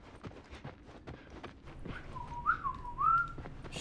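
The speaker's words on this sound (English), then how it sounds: "I'm trying to learn how to whistle." A couple of short rising and falling whistles from a video game character in The Last of Us, over faint clopping hoof steps, quiet and brief.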